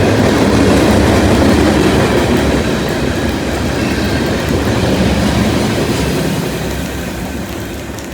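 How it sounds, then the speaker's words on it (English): An eastbound freight train carrying a long cut of Iowa Interstate hopper cars rolls past close by, a loud, continuous rumble of wheels with a rhythmic clickety-clack on the rails, easing off slightly toward the end. "Near the end, there was a pretty long cut of Iowa interstate hoppers."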